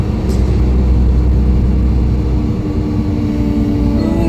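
Constant low engine drone and rumble heard from inside a moving bus, steady and fairly loud, with no voices.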